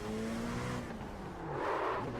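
Race car engine revving as it pulls out of the pits in iRacing at Spa-Francorchamps, LMP2 prototype, a steady droning engine note with a falling pitch sweep and rising again, loud and continuous.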